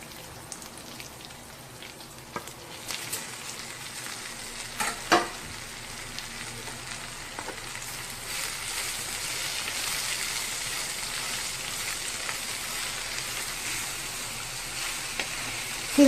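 Onions and banana flower stir-frying in a pan, giving a steady close sizzle with occasional scraping stir clicks, growing slightly louder and denser in the second half, with no voices.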